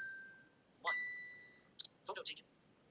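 A Google Pixel 8a phone plays quiet electronic tones while guiding a selfie, then a soft chime and a short run of faint clicks as the front camera takes the photo.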